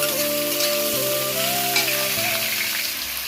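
Chopped pointed gourd (potol) fries in hot oil tempered with nigella seeds, a steady loud sizzle with some stirring, close up and without talking.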